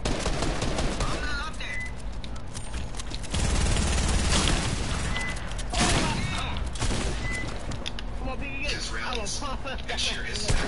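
Rapid bursts of gunfire in a video game shootout rattle throughout, layered with mechanical clatter and heavy booms, while people talk over the action.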